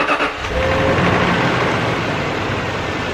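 A Land Rover LR3 engine cranks and catches after a brief start, then settles into a steady, fairly loud idle that runs close by with no talking.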